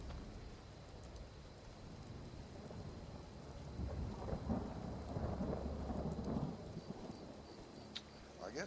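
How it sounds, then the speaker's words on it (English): Steady rain with rolling thunder in the video game Skyrim, soft hiss throughout and a low rumble swelling in the middle before fading, distant and fairly quiet. "I guess since it's raining"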